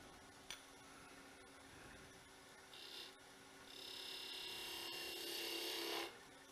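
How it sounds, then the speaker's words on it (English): A skew chisel cutting a flat on a wood tenon on a lathe, a quiet rasping scrape over a steady machine hum, growing into a sustained cutting hiss for a few seconds before stopping. "We got to first cut a flat section right there. Take my skew chisel."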